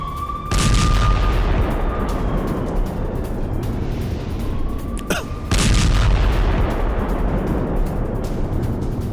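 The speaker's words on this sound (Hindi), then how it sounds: "राफा बॉर्डर के पास आईडीएफ ने बम बरसाए हैं" Heavy explosions from air strike bombs near the Rafah border, two loud booming blasts a few seconds apart, each with a deep rumbling roll, over a constant low roar and a faint whistling tone.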